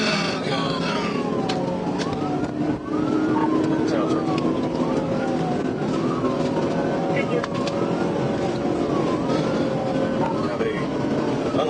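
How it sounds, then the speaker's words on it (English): Police patrol car siren wailing in repeated rising-and-falling sweeps during a pursuit of a speeding unlicensed motorcyclist, loud and continuous over road and engine noise, with a voice talking over it. "activated the lights and sirens"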